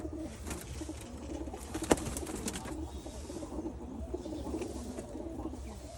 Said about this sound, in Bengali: এরা জোড়া বাচ্চা এবং আমার খুবই পছন্দের কবুতর